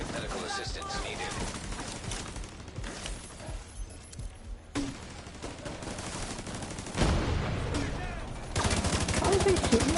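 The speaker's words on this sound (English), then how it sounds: "How is he shooting us?" Gunfire in The Division 2 during a chaotic firefight, dense bursts of shots crackling throughout, growing louder and more sustained near the end, with voices talking over the action.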